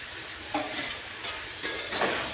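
Potato pieces sizzle and fry in a pan for a North Indian cauliflower curry, with a few bursts of stirring scrapes over a steady low crackle, close and moderately loud.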